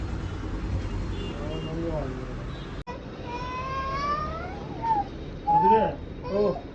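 A domestic cat meows several times in a house, short rising calls standing out near the end over steady background noise and voices talking.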